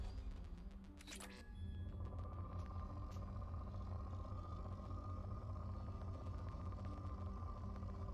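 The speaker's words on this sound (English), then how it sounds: "Probe launched." Probe launching in Mass Effect 2, a sharp whooshing burst early on followed by a steady electronic hum over a low rumbling ship ambience.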